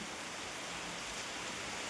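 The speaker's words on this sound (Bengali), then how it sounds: "বাইরে অঝোরে বৃষ্টি পড়ছে" Steady, dense hiss of rain falling continuously, fairly faint, with no voices or other distinct sounds.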